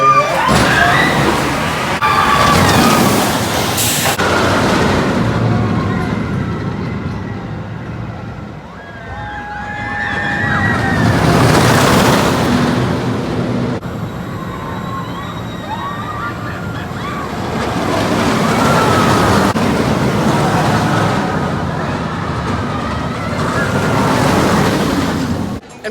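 A roller coaster ride at Knott's Berry Farm: the train's roar swells and fades in waves, with riders' screams rising over the rush.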